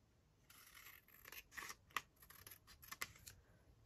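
Scissors cutting paper during craft work on envelope pockets, a quiet run of close, crisp snips and crunching cuts with no talk.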